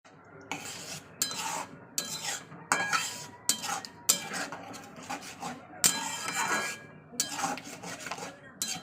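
A steel mixer grinder jar is rinsed with a little water, giving repeated metallic clinks, clanks and scraping rattles in an irregular rhythm, close and fairly loud, with no talk over it.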